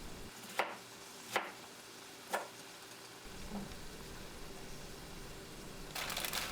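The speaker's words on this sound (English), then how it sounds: "going to slice up my cabbage here." A knife slices cabbage on a cutting board in a home kitchen. Three distinct chopping taps sound close by in a quiet room, followed by a softer thud and low rustling.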